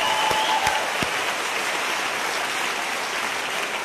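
Audience applause for a girl at a gathering, a dense steady patter of clapping sustained at even loudness for the whole stretch, with no voices over it.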